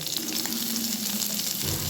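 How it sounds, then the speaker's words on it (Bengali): Oil sizzles and crackles steadily in a pan as crushed garlic fries lightly, a bright hissing fry close by with slight stirring, no talking. "রসুনগুলোকে একটু হালকা করে ভেজে নেব"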